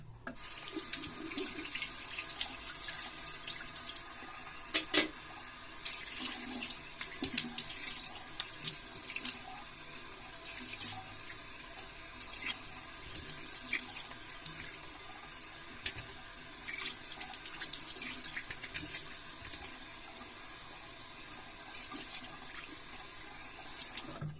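A bathroom water tap runs steadily while someone washes their face after shaving. The flow is a constant close rush, broken by splashes and hand movements in the water throughout.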